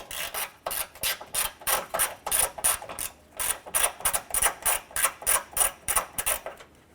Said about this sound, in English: Loosen and remove these bolts.